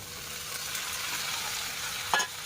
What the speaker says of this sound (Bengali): এখন আমি মাছটা ঢেলে দিচ্ছি দেখো